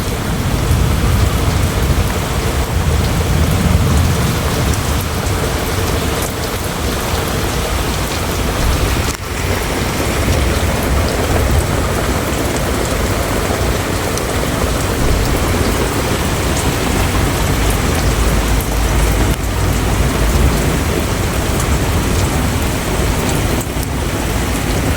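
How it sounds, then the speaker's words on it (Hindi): Heavy rain pours down in Sindh, a dense, loud and unbroken hiss of drops pounding surfaces that stays steady from start to finish, with no voices. "देख सकते हैं कितना बारिश तेज़ चल रहा है।"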